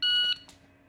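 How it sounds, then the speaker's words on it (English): A shot timer gives a single sharp electronic start beep, loud and close, lasting about a third of a second before cutting off, with faint room noise after. "I want you to try to have your hand on the gun before the beep finishes"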